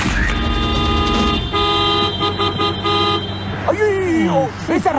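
A vehicle horn blares in sustained, loud tooting tones in a comedy film scene set at a college, with voices talking and other sounds over it.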